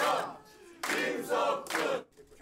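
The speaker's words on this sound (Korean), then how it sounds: "선거 캠프에서는 승리의 환호성이 터져나왔습니다" Supporters at a Busan campaign office cheer an education superintendent's election win, a crowd roaring in three surging bursts, loud and close.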